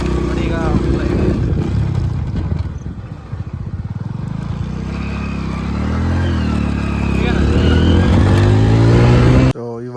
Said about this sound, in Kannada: ಇದೇ ಗಾಡಿ ನೋಡಿ ನಾವು ಬಂದಿದ್ದು, ಹೀರೋ ಹೋಂಡಾ ಪ್ಯಾಷನ್ ಗಾಡಿ.